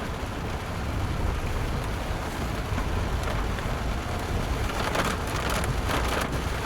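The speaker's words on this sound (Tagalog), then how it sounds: "gusto nilang marinig yung patak ng ulan sa sasakyan natin" Heavy rain drums steadily on a car in strong wind during solo camping, a dense close patter with denser splashy bursts near the end and no voices.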